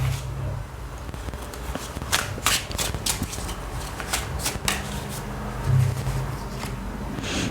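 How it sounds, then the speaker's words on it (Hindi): Tarot cards being shuffled by hand during a reading, a steady run of crisp papery riffles and slaps, close and fairly loud, with no talking. "मैं और भी एक कार्ड आप लोग के लिए टैरो से भी पुल आउट कर लेती हूँ।"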